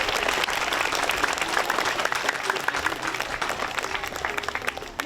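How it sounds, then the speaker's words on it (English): Crowd applause at a Veterans Day ceremony honors the Westbrook High School Band, a dense, steady patter of many hands that thins slightly toward the end. "Give another round of applause to the Westbrook High School Band."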